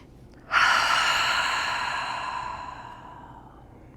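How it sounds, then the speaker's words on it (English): A long cleansing exhale during a yoga session, a single breathy sigh that starts abruptly and fades slowly over about three seconds, close and clear with no talking. "Give yourself a cleansing breath."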